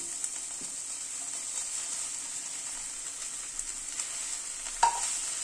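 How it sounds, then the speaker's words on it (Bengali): Potato wedges are tossed with onions in a pan and fry with a soft, steady sizzle, broken by occasional light scrapes and clicks of stirring. "নিয়ে এবার আলুটাকে মিশিয়ে দিচ্ছি।"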